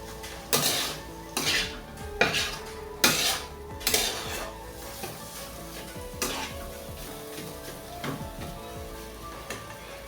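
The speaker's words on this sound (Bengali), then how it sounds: "এইভাবে 10-15 মিনিট নাড়তে হবে।" Ripe mango filling is stirred in a pan with a spoon, producing a series of regular metallic scrapes and knocks about once a second over a faint sizzle, close and clear.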